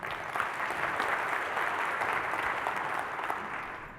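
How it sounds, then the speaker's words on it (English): A short burst of audience applause at a talk on managing emotions under stress, dense steady clapping at moderate volume that tapers at the end. "Let's give Trevor a round of applause."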